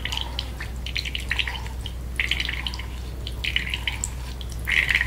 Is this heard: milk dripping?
yes